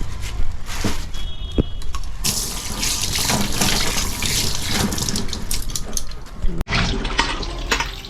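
Koi fish are rinsed under a running kitchen tap, a steady, close, splashing gush of water that continues throughout with small shifts as the fish are moved under the stream.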